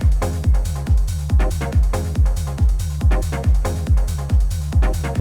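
Hardgroove techno drum loop nudged slightly off the grid, its kicks and percussion hits landing with a loose, swung feel; driving, loud and close, playing alone without voices until it cuts out.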